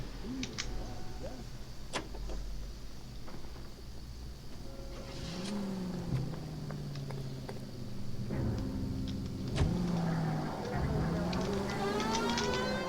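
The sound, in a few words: old car driving in a video game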